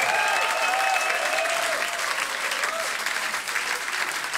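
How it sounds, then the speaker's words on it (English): Steady, full applause from a small audience at an intimate living-room concert, continuous dense clapping at an even level throughout. "So give Martin and the organization a wonderful applause."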